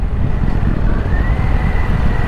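A Harley-Davidson Pan America 1250 with a Screaming Eagle exhaust runs loud and close, a steady rough engine roar with the pitch gradually climbing as it revs.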